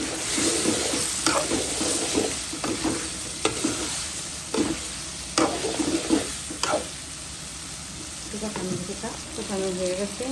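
Rohu fish pieces fried with taro in a pan: an oily sizzle runs throughout, broken by repeated scraping stirs of a spatula, close and clear in a home kitchen.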